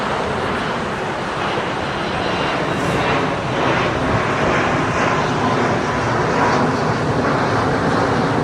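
A Qatar Airways Airbus A350 departs from runway 25 right at LAX, bound for Doha, giving a steady, broad rumble of distant jet engines mixed with wind.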